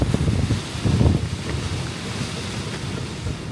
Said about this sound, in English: I'm sitting here waiting for the wind to end because like it's blowing so hard